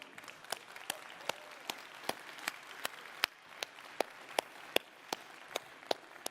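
An audience at a phone launch event applauding a company president in the front row, steady mid-distance clapping with distinct individual claps punctuating the crowd.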